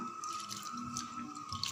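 Soaked black urad dal being rinsed in water for idli batter, with faint sloshing, trickling and dripping sounds, quiet and close, continuous over a low background hum.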